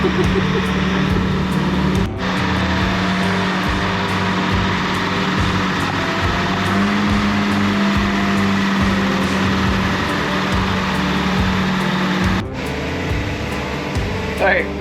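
A runaway diesel engine roars loud and continuous in a trawler's engine room, a steady mechanical drone with a sustained hum running through it, and brief knocks near the start and end.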